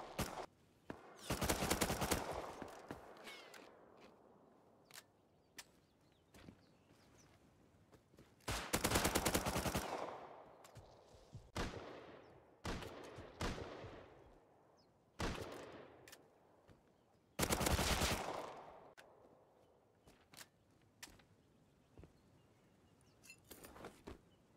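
Bursts of automatic gunfire in the survival video game Rust, several loud clustered volleys and single shots spread across the stretch with quieter gaps between, no talking.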